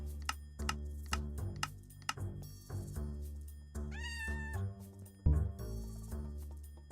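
A Minecraft pet cat named Spoingus meows once over a dense, busy game mix of clicks, taps and low hum, the meow clear but brief amid the steady activity.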